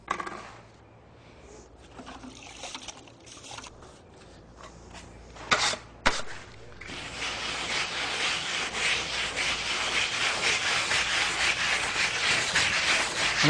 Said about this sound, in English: all you're actually doing is just rubbing that surface open